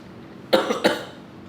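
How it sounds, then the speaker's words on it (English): A person coughs twice in quick succession, close and fairly loud, followed by a short breathy trail in an otherwise quiet room. "Why'd you cough?"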